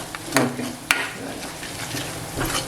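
Spices sautéing in a pan for Marathi masoor dal aamti, with sharp clinks of a spoon against the pan over a steady low sizzle, close by and with no talk.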